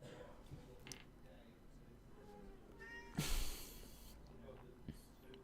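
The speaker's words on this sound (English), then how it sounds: "She's just meowing." A house cat meows a few times indoors, short faint calls with a louder burst partway through, heard against quiet room noise.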